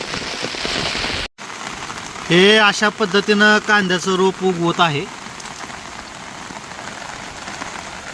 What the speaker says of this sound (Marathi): पाऊस खूप चालू झाला आहे